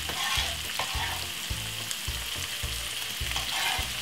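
White onion, mixed peppers, garlic and spring onion sizzle steadily in a hot pan for pan-fried meatballs, with a continuous loud hiss and low thuds of stirring repeating about every half second.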